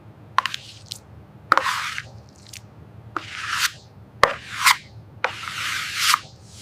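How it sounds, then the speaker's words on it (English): Bright yellow glazing putty spread with a razor blade over the steel body of a 1937 Bugatti Type 57SC Atlantic, a series of close scraping, squishy strokes with short pauses between them. "A bright yellow, finer filler is used for pinholes. It is applied with a razor blade"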